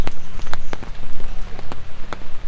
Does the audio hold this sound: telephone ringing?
no